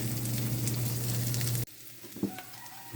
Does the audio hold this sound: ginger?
yes